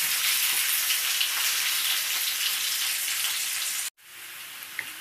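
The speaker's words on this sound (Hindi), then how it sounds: "प्याज को गोल्डन ब्राउन होने तक भूनूंगी" Steady, loud sizzling of onions frying in a pan, continuous for several seconds before a sudden brief cut, then the sizzle resumes.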